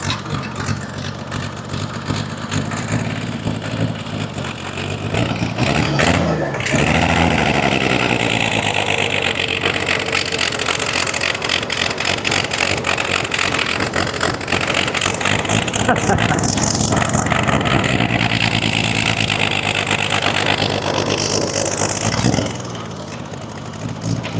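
The engine of an abandoned homemade skidder, a tree farmer, runs and drives. It idles and revs steadily and loudly for about twenty seconds, with a brief dip midway, and voices appear now and then over it.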